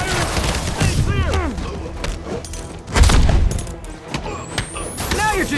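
Gunfire in a Marvel's Spider-Man superhero action game, with bursts of shots and booms in a busy combat mix, a loud impact near the middle, and game voices talking over much of it.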